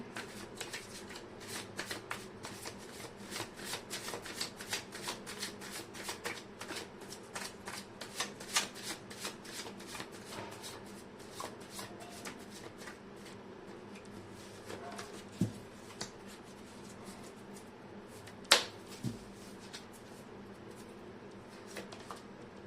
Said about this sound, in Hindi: शफल करना जरूरी है।